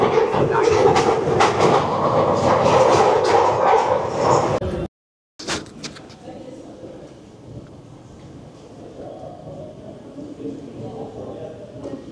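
An underground train rumbles loudly through Bond Street station in London for several seconds, then a brief silence, followed by quieter platform ambience with distant rumbling.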